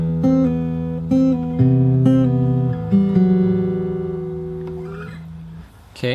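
Fingerstyle acoustic guitar plays the closing bar of a song's verse, clear plucked notes and sustained bass tones ringing in a slow, steady phrase, close and alone with no voice.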